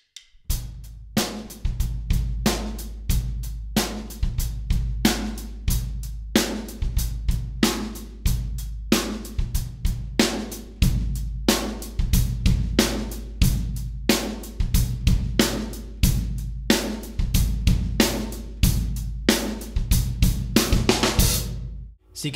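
Drum kit groove played first with the heel down on the bass pedal and then heel up, steady rhythmic kick, snare and cymbal hits throughout, loud and close with no talking.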